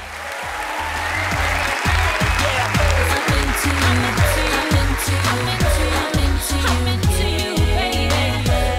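Sustained audience applause fills a talent show stage on Yetenek Sizsiniz Türkiye, loud and dense with steady clapping throughout, accompanied by a rhythmic backing beat.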